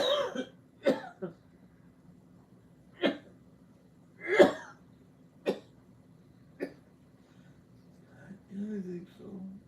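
A woman coughs repeatedly in short, separate bursts, some harsh and some lighter, spaced across a quiet indoor room with throat-clearing sounds mixed in.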